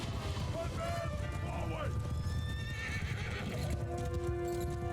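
Horses gallop and neigh during a battle in the video game Mount & Blade II: Bannerlord, with constant hoof clatter, several loud whinnies and a dense, noisy battlefield din underneath.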